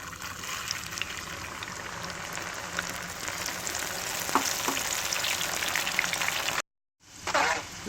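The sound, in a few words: deep frying peanuts for nei kadalai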